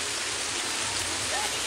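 Rain pours on kanwar pilgrims walking along the NH58 highway during the Shiv kawad procession, a dense, steady hiss of falling water that fills the whole moment without a break.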